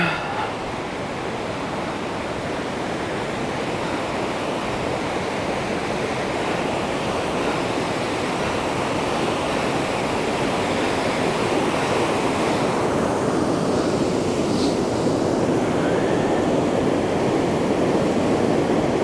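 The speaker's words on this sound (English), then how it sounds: "There's a waterfall" Waterfall on a forest hiking trail at Goose Creek Falls, a loud, steady broadband roar of rushing water that continues without break, close to the listener.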